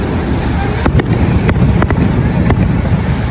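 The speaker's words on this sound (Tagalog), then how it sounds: "naabutan pa natin yung fireworks dito sa seaside, sa Mall location" Several sharp fireworks bursts crack out in the distance over a steady wash of wind and crowd noise at a seaside mall, spaced irregularly a few at a time.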